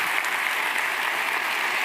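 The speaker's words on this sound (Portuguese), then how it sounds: "Vamos aplaudir a Jesus." A church congregation claps together during a worship service, a dense, steady burst of applause close by that fills the whole moment without pause.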